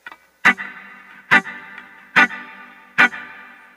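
An electric guitar through a delay effect plays four evenly spaced, sharp muted strums in a reggae rhythm, each followed by a trailing echo and distorted ring, with no talking.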